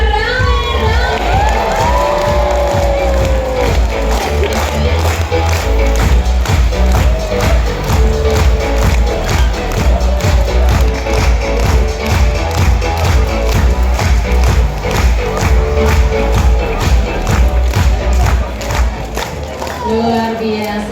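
A large crowd at a tiger show cheers and shouts loudly and continuously, with rhythmic clapping and excited children's voices throughout.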